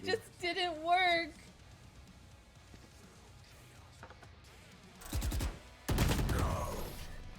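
Video game gunfire bursts out in two rapid, loud volleys late on, after a stretch of talk and quieter background sound.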